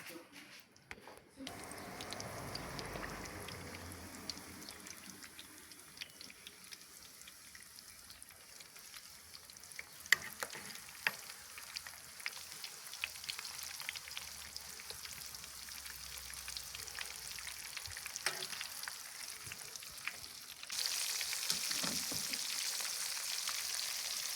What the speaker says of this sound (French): on va les faire frire dans de l'huile